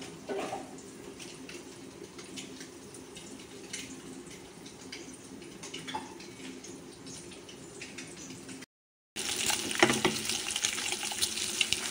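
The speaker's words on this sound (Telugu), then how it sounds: "మూత పెట్టేసుకొని గుడ్లు వేపుకుంటాకి నూనె, గుడ్లు వేపేస్తానండి." Eggs fry in oil for a tomato egg curry, making a continuous close sizzle and crackle that breaks off for a moment, then returns a little louder and brighter.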